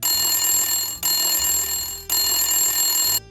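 A telephone bell rings in three long bursts with brief gaps between them, loud, bright and metallic, with nothing else heard.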